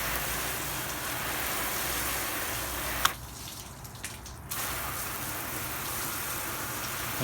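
Hose on shower setting spraying water onto a coated wheel, a steady broadband hiss of spray that cuts away briefly for about a second and a half mid-way, then resumes just as strong, no talk.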